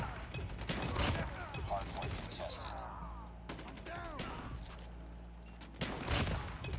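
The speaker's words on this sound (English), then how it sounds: "the rate of fire to shotgun did noticeably get nerfed" Shotgun fire in Call of Duty Mobile from a gunsmith shotgun build: a few spaced, heavy blasts separated by mechanical clicks and reload clatter, fairly quiet overall, with a player talking between shots.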